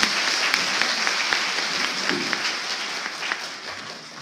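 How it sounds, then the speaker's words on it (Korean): A lecture audience applauds chairman Kim Young-joo with a sustained patter of many hands clapping in a room, steady and moderately loud, tapering slightly. "김영주 위원장 큰 박수 부탁드립니다"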